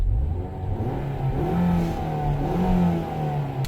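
A manual car's 2.5 liter inline four engine revs from inside the cabin, a continuous mid-pitched drone that rises and falls in pitch.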